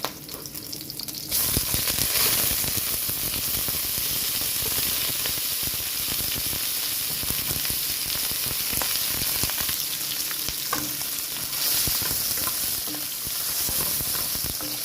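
Pork bones dropped into hot rendered oil sizzle loudly and steadily for the whole stretch, a dense close frying hiss with faint stirring scrapes inside it.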